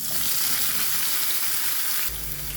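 Raw plantain pieces fry in hot coconut oil with a loud, dense, continuous sizzle close by. The hiss shifts slightly partway through.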